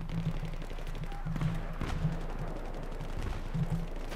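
Rapid gunfire bursts from the Battlefield 3 video game rattle repeatedly over a steady background hum, with faint in-game noise between volleys.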